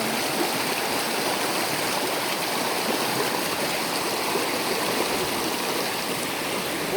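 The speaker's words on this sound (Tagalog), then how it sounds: "yung lakas ng tubig." Loud, steady rush of flowing river water, a constant churning roar with no pauses.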